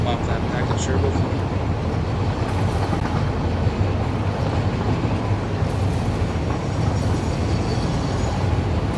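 Train rolling along a line in the factory-building video game Satisfactory, a steady continuous rumble that stays loud and even throughout without clear start or end.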